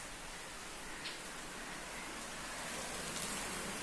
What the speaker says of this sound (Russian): Заливает дождь, заливает.